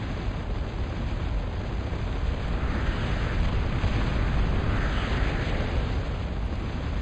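Continuous heavy rumbling barrage of artillery fire and explosions in a real-time strategy game match on the Darkside map, a dense, steady roar with no gaps and no voices.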